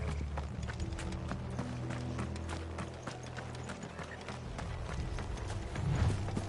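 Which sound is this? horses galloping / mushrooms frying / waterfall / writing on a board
horses galloping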